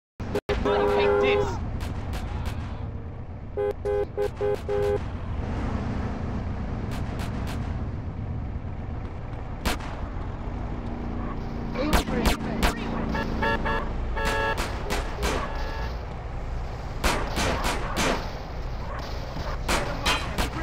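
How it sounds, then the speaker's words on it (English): Scattered gunshots and impacts during a pedestrian fight in GTA San Andreas, sharp irregular cracks spread through the clip over game ambience, with a car horn and shouting voices in places. "Yes, a gun."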